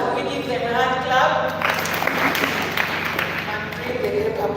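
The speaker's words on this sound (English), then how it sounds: "Can we give them a hand clap?" Audience applause at a primary schools' debate final in a hall, steady dense clapping from a crowd filling the clip alongside a voice speaking over it.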